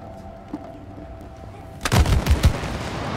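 A shot fired in the video game It Takes Two lands after quiet ambience as a sudden loud blast followed by a few rapid booming impacts and rumbling, close and without talk.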